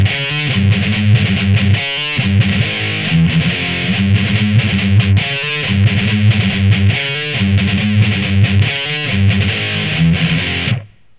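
Heavily distorted electric guitar plays a chugging riff, a loud, fast, repeating pattern of palm-muted bursts and chords that cuts off abruptly near the end, with no voice.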